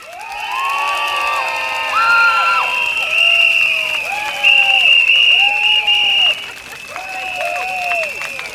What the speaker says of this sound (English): For those of you with clapper, with cheering stick and whistle, let's make some noise!